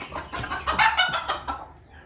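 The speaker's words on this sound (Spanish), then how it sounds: "esta gallina que ustedes están viendo acá es la gallinita que está clueca" A broody hen clucks in a series of short, close, moderately loud notes, a halting run of about half a dozen clucks that fades at the end.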